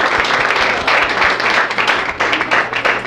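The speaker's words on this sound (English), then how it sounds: "I think she deserves another round of applause." An audience applauds steadily, a dense wash of many hands clapping that stays loud and even throughout, with no talking.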